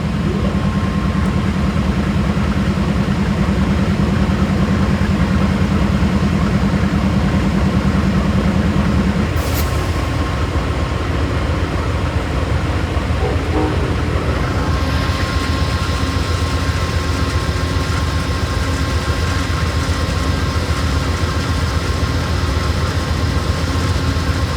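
Amtrak Heritage 108 locomotive at Syracuse station, its diesel engine droning loud and steady, an early tone cutting off partway, then a deeper powerful rumble as it revs up, no voices.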